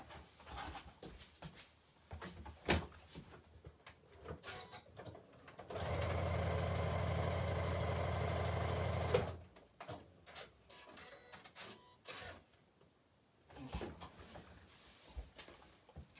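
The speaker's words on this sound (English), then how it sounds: "bear with me whilst I just sew these two bits together" A sewing machine stitches waxed canvas and cork pieces together, running in one steady, loud mechanical burst of about three seconds, with quieter handling clicks and rustles on a table before and after.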